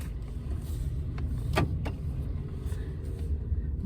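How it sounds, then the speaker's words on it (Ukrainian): A charged electric car sets off, a steady low hum of the car interior with a faint whir and a couple of brief clicks, no talking. "Так, заряджена машина. Поїхали."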